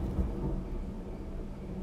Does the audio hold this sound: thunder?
yes